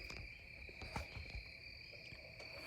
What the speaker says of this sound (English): Freaking crickets are chirping.